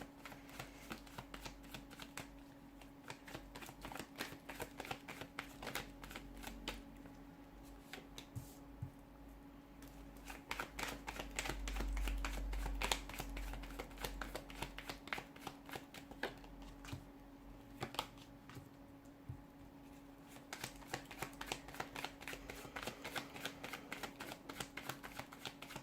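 A deck of tarot cards is shuffled over and over for a long stretch, giving a soft, rapid, riffling patter. It is close and quiet against a faint steady background hum.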